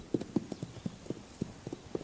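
Hooves of wild horses from the Pryor Mountain Wild Horse Range on the Montana-Wyoming border clip-clop in an irregular run of about a dozen sharp, moderately close hits, with no voices.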